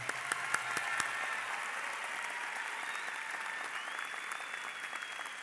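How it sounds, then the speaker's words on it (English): A crowd applauds at the Eastwood High School graduation ceremony. The clapping is a dense, even roar that holds steady throughout, with a faint high tone running through it. "Let's go ahead and give them a round of applause."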